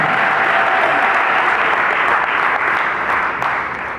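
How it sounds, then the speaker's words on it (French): Dense, loud applause from a seminar audience fills the room steadily, a full crowd clapping together that eases slightly toward the end. "applaudissez pour vous."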